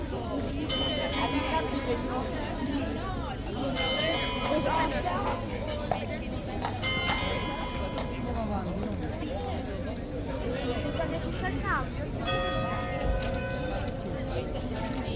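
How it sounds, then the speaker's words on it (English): A bell rings out with clear, sustained tones over a busy crowd, people chattering all around in an open, echoing space. "And you bong, there's the bell."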